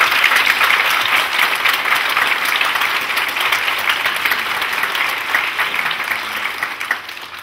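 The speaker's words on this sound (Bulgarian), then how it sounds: "Аплодисменти!" A concert audience claps loudly and steadily for a folk ensemble's anniversary performance. The dense, continuous applause holds at full strength from start to finish and tapers only slightly at the end, with no talk over it.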